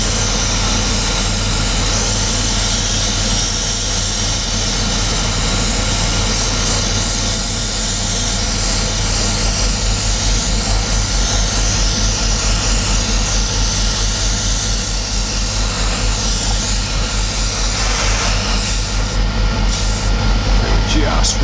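An airbrush spraying base coat onto a Millennium Falcon scale model, with a loud continuous hiss and a steady compressor hum running throughout and hardly changing.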